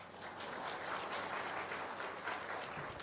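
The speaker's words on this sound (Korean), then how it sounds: "박수 안 합니까?" Sustained audience applause fills a church during an elder ordination ceremony, a steady dense wash of many hands clapping throughout, no voices standing out.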